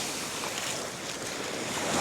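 Steady wash of ocean waves and wind noise from a small boat riding through the sea off the Dominican Republic, loud and continuous with no voices.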